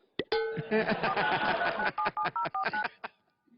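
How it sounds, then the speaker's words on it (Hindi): A rapid sequence of phone keypad tones beeps out a number, each short tone following quickly on the last, close and clear. "हाँ मैं अभी फोन करती हूँ उसको।"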